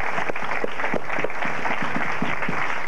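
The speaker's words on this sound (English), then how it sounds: "Let's have a round of applause for them," Audience applauding three quiz bowl officials at a high school varsity competition: continuous clapping from a modest crowd, steady and moderately loud, with no speech over it.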